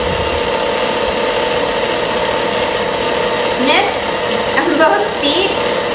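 Stand mixer with a whisk attachment running on low speed, beating egg whites and powdered sugar for buttercream; a steady motor hum continues throughout while a voice talks over it.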